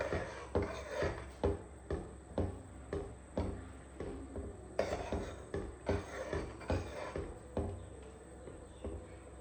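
Brinjal curry with added water being stirred in a pan, a utensil scraping through it in steady, rhythmic strokes about twice a second, close and moderately loud with no talking.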